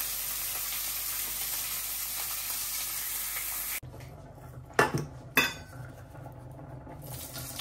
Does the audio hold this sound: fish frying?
yes